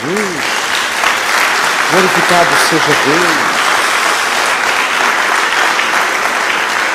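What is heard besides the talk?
congregation applauding in church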